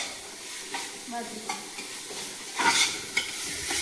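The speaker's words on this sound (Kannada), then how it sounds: "ಈರುಳ್ಳಿ ಆದಮೇಲೆ ಒಂದು 5 ಮಿನಿಟ್ಸ್ ಅದು ಕಲರ್ ಆಗೋವರೆಗೂ ಫ್ರೈ ಮಾಡ್ಕೊಳ್ತಾ ಇರಬೇಕು" Onions fry in a pan for egg biryani, a soft steady sizzle with scattered scrapes and clinks of stirring, one louder burst of spatula activity partway through.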